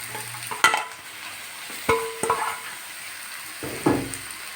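Grated beetroot tipped onto fried onions in a pan and stirred, a low sizzle broken by a few distinct utensil knocks and scrapes, spaced apart, with no speech.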